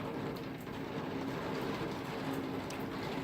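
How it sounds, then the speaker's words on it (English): Heavy rain pummels a shop rooftop as a dense, steady hiss and patter with no pauses, loud and continuous throughout. "I wasn't counting on rain pummeling me from the rooftop."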